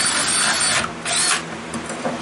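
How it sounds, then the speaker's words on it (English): A power drill bores holes while reworking a salvaged armchair, a loud whirring burst that cuts out briefly, starts again, then trails off to a quieter hum with no talking. "I just take my drill and I do like this."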